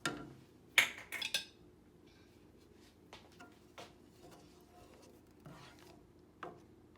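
A spoon knocks and scrapes in a pot as almond milk is worked into cornmeal porridge, a few sharp clinks early, then quiet intermittent soft taps and scrapes with long pauses between.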